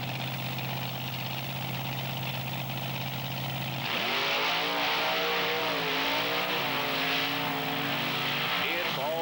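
Monster trucks Bigfoot Cruiser and Grave Digger rev and race at a 1995 Wildwood, New Jersey event, a loud sustained engine roar that surges suddenly with rising and falling revs, heard from a distance over an announcer's commentary.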